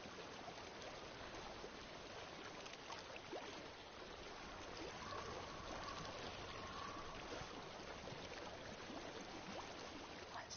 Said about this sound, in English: What do you hear? Water. I hear water.